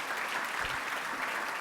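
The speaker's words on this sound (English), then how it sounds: "Let's give them a round of applause." A conference dinner crowd claps steadily, a dense wash of applause with no voices standing out.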